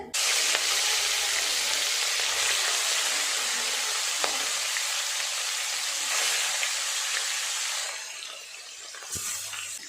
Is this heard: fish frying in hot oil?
yes